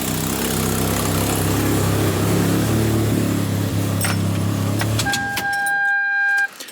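A Toyota MR2 turbo's 2ZZ-GE engine idles loudly up close, then is switched off near the end, the rumble cutting out to leave brief tones and clicks before silence.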